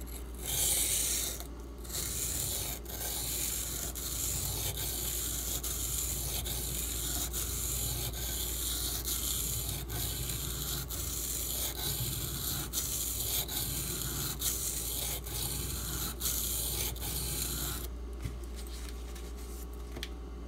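A Two Sun knife with a D2 steel blade is drawn across the stone of a guided sharpening system in a steady run of close, repeated abrasive strokes, with a brief pause near the end.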